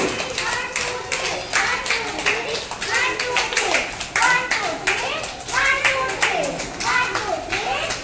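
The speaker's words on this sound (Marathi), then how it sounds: "टाळ्या वाजवा." Young children clapping their hands on the first day of school, a rapid, uneven patter of small claps from a group nearby, mixed with children's chatter and an adult voice talking over them.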